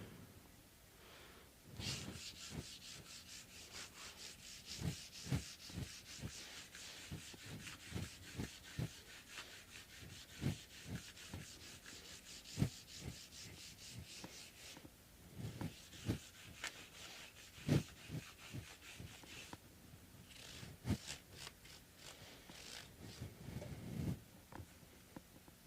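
Sanding the frets of a Fender Jazz Bass, a repeated rhythmic rubbing and scraping of abrasive on metal, close and fairly quiet, in bursts with short pauses between strokes.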